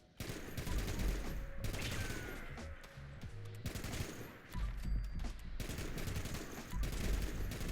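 Heavy gun tap-fired in Fallout 76 during a fight with super mutants, bursts of loud, dense gunfire repeating in rhythmic clusters with brief lulls between them across the whole stretch.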